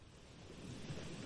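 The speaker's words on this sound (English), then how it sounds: "let's just sit here for a little while longer and listen to the ocean" Ocean waves rush steadily, a soft continuous wash of surf swelling slightly louder toward the end, with no voices.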